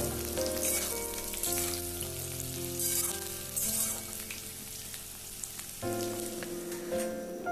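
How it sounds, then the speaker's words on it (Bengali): Potato and grated radish fry covered over a high flame, producing a dense, steady crackling sizzle close up, with faint clinks and shifts as the food settles. "তাই এটা একটু চাপা দিয়ে আমি হাই ফ্লেমে ভাজছি"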